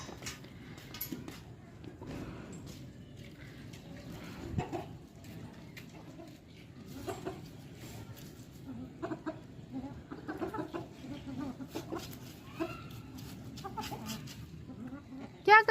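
Chickens cluck and peck while feeding on leafy greens in a backyard coop, with soft scattered clucks over steady rustling and low household background, occasional voices nearby.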